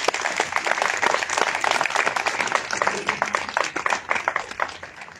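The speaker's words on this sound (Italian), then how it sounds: "Intanto cominciamo ad un applauso." Applause from an audience at a book presentation, many hands clapping in a dense, sustained burst that holds evenly throughout and fades slightly at the close.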